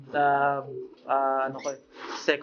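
Racing pigeons cooing in a breeder loft, two close, clear drawn-out coos followed by shorter fluttery calls, loud and near.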